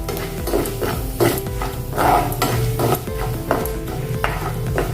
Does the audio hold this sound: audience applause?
no